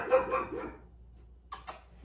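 Several dogs bark and yip in a loud, busy burst at the start, then fall quiet before two short sharp barks return near the end.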